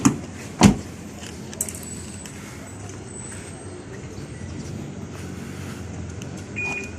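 A Perodua Myvi with a keyless alarm system auto-unlocks with a sharp click-thunk of the door locks at the start, followed by a quiet hum and a faint beep as the car sits idle.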